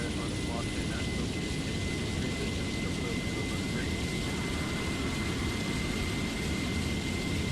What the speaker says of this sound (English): Oh, beautiful sound of the APU